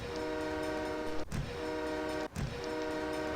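Train horn sounding twice over a steady rumble of a passing train in the SimCity 3000 city-building game, two clear blasts about a second apart with no talk.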